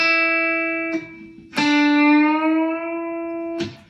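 A clean electric guitar note is bent up a half step and held, plucked three times with sustained ringing harmonics, each pick attack sharp and the tone sliding slightly in pitch before steadying, played alone.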